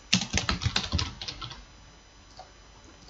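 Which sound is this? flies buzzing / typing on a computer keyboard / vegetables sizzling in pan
typing on a computer keyboard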